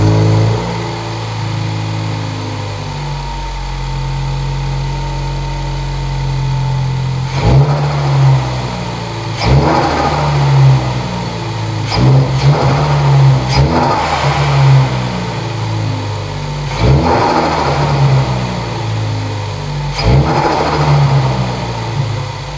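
A car with its Cobb sound symposer deleted and a Mishimoto oil catch can fitted idles steadily, then revs repeatedly in short, loud bursts that climb and fall back to idle, close up with no talking.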